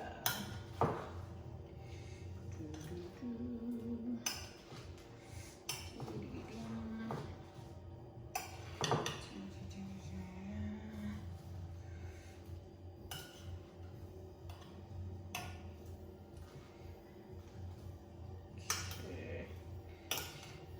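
A quinoa green salad being tossed in a bowl, with utensils scraping and clinking against the dish in irregular bursts, close up, over a low background hum.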